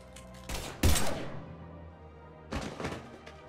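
Gunfire in Mass Effect: a few close, sharp shots in quick succession, then a pause of faint ambience before another short burst of shots.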